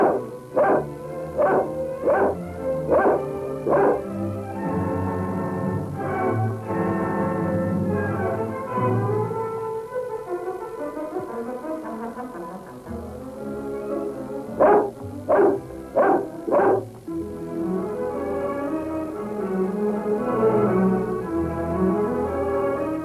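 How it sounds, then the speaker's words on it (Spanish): Several dogs bark in rapid bursts during a chase in a 1939 film, the yelps coming in clustered volleys separated by quieter gaps of rustling movement. "¿Ves los perros?"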